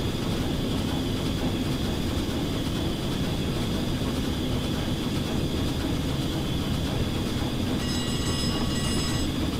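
A train in the Train Simulator 2017 video game brakes hard, giving a steady, dense rumble with hissing and high metallic squeal that builds near the end, loud and continuous with no talk.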